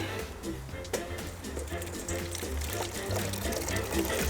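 Blended pepper mixture for homemade sriracha hot sauce pours steadily through a strainer, a soft continuous trickling and splashing that stays fairly quiet throughout.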